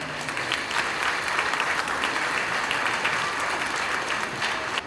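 A hall full of people claps together during a live stage speech and mimicry show, producing a full, steady wash of applause that holds evenly throughout.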